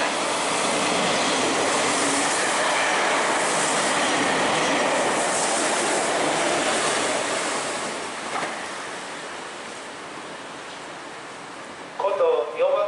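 A Meitetsu train passes through a station, a loud, sustained roar of wheels and rushing air that slowly fades out, with a station announcement voice starting near the end.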